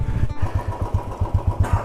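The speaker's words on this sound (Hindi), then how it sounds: "दिल्ली मनाली हाईवे पर हमारी बाइक चलती हुई।" A motorcycle riding along the Delhi–Manali highway beyond Shimla, its engine thrumming with a steady pulsing beat close to the microphone, loud and continuous with no talking.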